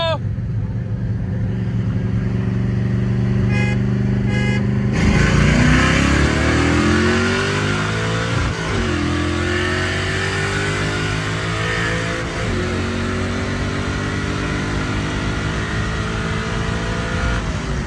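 A 347 stroker 1965 Ford Mustang and a twin-turbo BMW M3 race, with loud engines revving and winding up through several gear changes, heard from nearby with some voices at the start.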